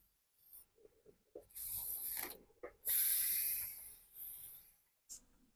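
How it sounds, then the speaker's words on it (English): Lubricant is sprayed from a can onto a garage door spring, loud hissing aerosol bursts of a second or so each, close up, with short clicks and pauses between them. "Now you want to spray it across the top of that spring right here."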